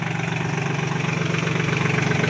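A tractor engine idles steadily nearby, a low, even, rhythmic chug with a slight knocking pulse that holds constant throughout.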